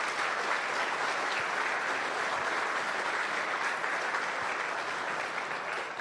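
Sustained applause from an audience of union workers fills a union hall in Windsor, a dense, even wash of clapping lasting several seconds with no voices over it.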